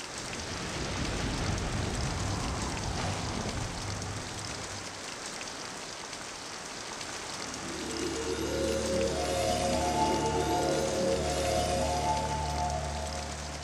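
Steady light rain in a cartoon of the Buddha's life story, a soft continuous patter that swells slightly, with low sustained tones entering midway.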